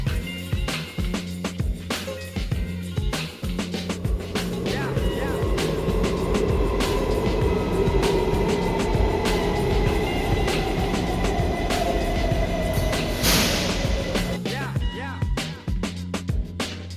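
A light rail train on LRT Line 3 in Shah Alam rolls in with a loud rumbling roar and a long descending whine, building to a brief hiss near the end; faint voices around.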